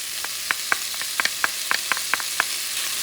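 Garlic sizzling in a pan for shrimp pancit bihon, a steady hiss of hot oil punctuated by a dozen or so small sharp pops and crackles at irregular intervals.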